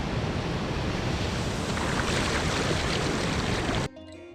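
Surf rolls in steadily along Ocean Beach, a long, remote stretch of Tasmanian coastline, a broad continuous wash of breaking waves with some wind, heard alone and loud until it cuts off abruptly near the end.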